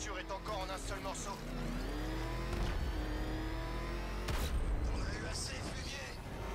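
The Batmobile in the video game Batman Arkham Knight, its engine revving and roaring as it accelerates, loud and close with a sharp impact partway through, while voices talk over it.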